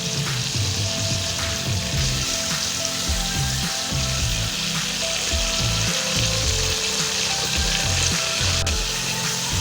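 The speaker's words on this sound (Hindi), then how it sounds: "जीरे को इसके अंदर अच्छी तरह से भूनेंगे हम।" Cumin seeds crackle and fry in melted butter, a bright steady sizzle with rhythmic stirring thumps in the low end, heard up close and alone.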